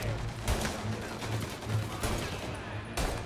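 Bursts of gunfire in the Mafia Definitive Edition video game crackle in quick repeated volleys over a dense, noisy game soundscape.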